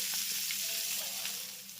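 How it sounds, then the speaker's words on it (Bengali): Tempering spices with asafoetida fry in hot oil, making a soft, steady sizzle and crackle that stays quiet and close throughout. "সমস্ত ফোড়নগুলো যখন একটু ভালোভাবে ভাজা হয়ে যাবে"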